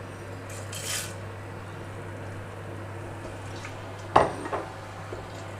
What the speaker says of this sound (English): Just stir those in for a moment